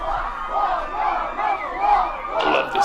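A crowd roaring and cheering at a gaming event in the web series Video Game High School, a sustained massed shout of many voices swelling and falling, with a livelier burst near the end.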